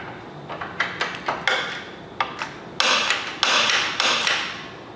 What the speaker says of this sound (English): we're gonna take an 11/16 open end wrench here, put it on the nut side, grab our 5/8 socket and tighten the bolt head side.